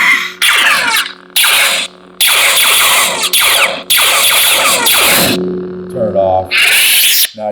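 A Neopixel lightsaber with a Proffie sound board, an Obi-Wan Kenobi style Desert Wanderer hilt, hums loudly with a low steady drone and repeated sweeping swish bursts, with an ignition-like surge near the end.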